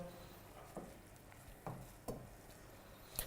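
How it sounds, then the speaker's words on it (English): Rice being stirred in a pan for a salmon and asparagus risotto: several soft scraping strokes at irregular intervals over a low background sizzle. "Give it a little stir"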